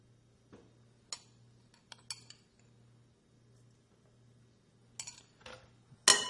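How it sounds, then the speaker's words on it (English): Spoon scraping and clinking against a bowl while spice mix is stirred into food, a few sharp metallic ticks and clatters scattered between quiet pauses, close and alone. "I'm just going to sprinkle the spice mix over it and mix it up"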